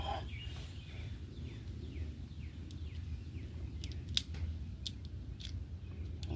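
Side cutters snip wire on a Cub Cadet XT1 riding mower with a 50-inch deck, giving a few sharp, close clicks near the end over a steady low outdoor rumble.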